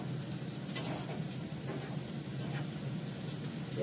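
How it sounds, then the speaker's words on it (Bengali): Eggplant fries in a pan on a gas stove turned up high, giving a steady, close, dense sizzle that continues without pause. "বেগুনটা তো ভাজা হয়ে গেছে"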